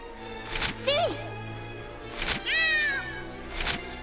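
Cat meowing inside the Gravity Rush 2 video game, three separate meows spaced a few seconds apart, fairly close and clear over a low game background hum.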